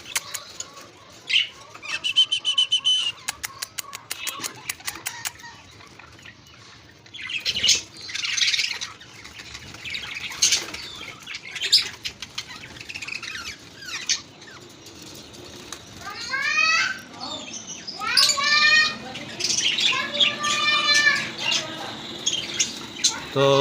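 Australian parrots in an aviary squawking and chirping in irregular bursts, with loud flapping of wings at times and a person talking faintly underneath.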